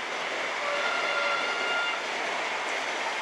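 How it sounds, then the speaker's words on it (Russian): A high-speed train rushes past on a Moscow line, a loud, steady roar of wheels and air close by, with a faint horn tone, and no talking over it. "Ух ты, какой скоростной поезд идет."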